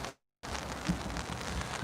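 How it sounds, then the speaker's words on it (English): Rain pattering steadily on an umbrella outdoors during a protest at the Washington state legislature, a dense, even hiss that starts abruptly after a brief silent gap and continues close to the mic. "can you guys hear the rain hitting the umbrella by chance?"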